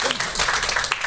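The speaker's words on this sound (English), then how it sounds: "So I think we should give them a round of applause." A brief burst of audience applause, dense and loud clapping filling a short moment, with a voice faintly mixed in.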